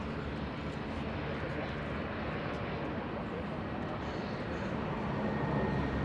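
A Southwest Airlines airliner at Los Angeles International Airport, a steady broadband jet rumble heard from some distance, continuous and fairly even, with faint speech-like sounds at times.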